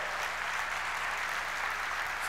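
Audience at a Panera Bread company family reunion event applauding, a dense steady wash of clapping from many hands throughout.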